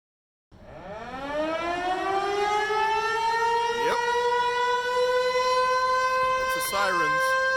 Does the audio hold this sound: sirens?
yes